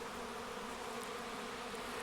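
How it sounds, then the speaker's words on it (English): A swarm of honey bees arriving fills the air with a dense, continuous buzzing drone, steady and close, with no voices. "I've got thousands and thousands of bees flying around me, bumping into me"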